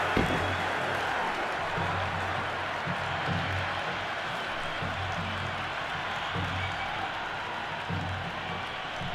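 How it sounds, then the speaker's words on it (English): Stadium crowd noise from an IPL cricket video game match on PC, a steady dense roar of cheering and applause from the stands that holds loud and unbroken throughout. "There's a buzz, a real buzz coming from the stands."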